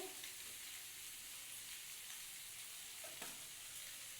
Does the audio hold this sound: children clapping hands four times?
no